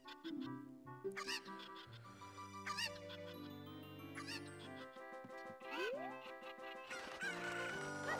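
A chicken in The Legend of Zelda: Ocarina of Time clucks and squawks repeatedly over busy game music, with a few sharp, close calls standing out across several seconds.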